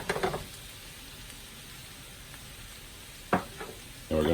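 Ingredients for huevos rancheros sautéing in a pan after salt and pepper go in, a faint, steady low sizzle with a few sharp stirring clatters at the start and near the end.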